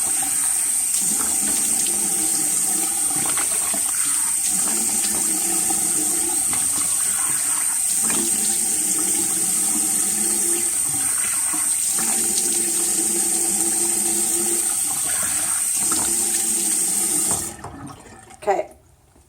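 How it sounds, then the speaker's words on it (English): Water runs steadily from a tap into a bathroom sink as a face is rinsed, a loud continuous splashing stream with shifting tones from hands in the flow, stopping abruptly near the end. "I'm just going to rinse in the sink"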